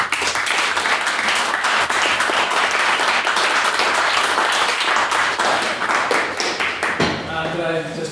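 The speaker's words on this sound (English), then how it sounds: "having another round of applause for him" Sustained audience applause fills a debate hall, dense clapping throughout, with a voice beginning to speak over the dying claps near the end.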